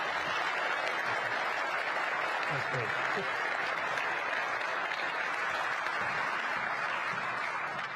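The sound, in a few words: audience applause for the Governor of Kentucky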